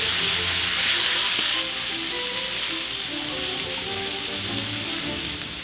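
Shallots sweat in butter in a pan, giving a steady, close sizzle with a soft crackling hiss that holds evenly throughout, with no voices.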